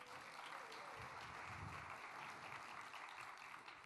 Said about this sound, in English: Yes, clap. You can clap for that.